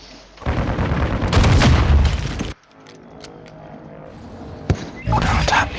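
Gunfire in Warzone 2 on Ashika Island, with bursts of loud close shots and booms around a brief quieter gap and a sharp single crack, mixed with game noise.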